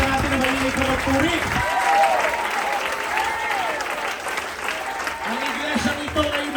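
A church congregation claps loudly and steadily in praise, dense applause filling the space while a voice calls out over it and faint cheering rises.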